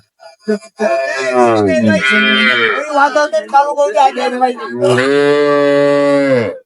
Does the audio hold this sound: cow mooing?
yes